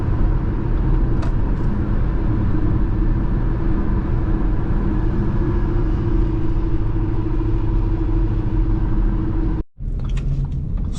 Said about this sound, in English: now is the perfect time to do a quick 0 to 60 test